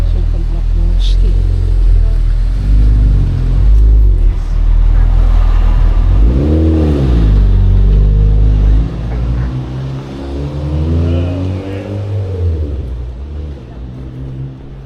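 Car engine pulling through the streets of Georgetown, a loud, steady cabin drone that rises and falls twice as the driver accelerates, with the revs sweeping up and back down.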